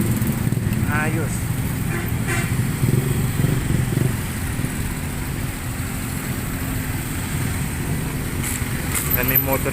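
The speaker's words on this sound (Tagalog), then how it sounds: "May motorcade ng motor dito." Motorcycle motorcade crawling through congested provincial traffic in Tanza, Cavite, engines droning and idling steadily near and far, with a person talking over the continuous road noise.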